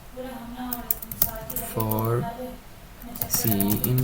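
Python scraping code typed on a computer keyboard, bursts of quick, close key clicks under and between a voice talking.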